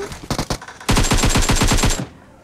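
Automatic gunfire from the PUBG Mobile video game: a few scattered shots, then a sustained, loud burst of rapid fire lasting about a second before cutting off, with no talking.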